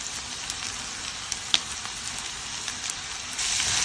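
Capsicum frying with chicken sausage, pepper powder and salt in a pan, a dense steady sizzle close by with a few sharp crackles and pops, growing slightly louder at the end.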